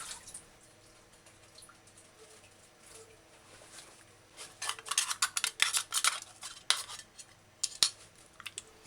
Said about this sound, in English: open the can, remove the water, and then rinse it out 3 or 4 times with fresh water